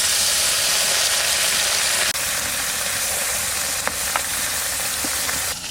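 Cumin seeds frying in hot mustard oil give a loud, steady, dense sizzle throughout, close up, with a few faint clicks and pops, and no voices.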